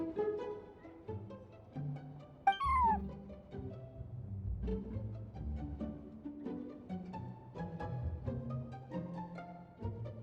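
A cat in the Genshin Impact video game gives a single clear meow partway through, heard over continuous game background music.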